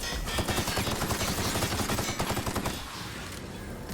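Rapid automatic gunfire in The Outer Worlds, a dense, loud burst of shots that runs for nearly three seconds and then cuts off, leaving only low background noise.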